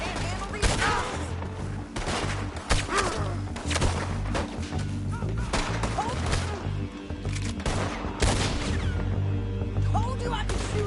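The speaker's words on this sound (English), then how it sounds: "Told you I could shoot a gun, didn't I?" Gunfire in the Western video game Red Dead Redemption 2 comes as repeated sharp cracks and thuds in irregular bursts, some close and loud, over a low game backdrop.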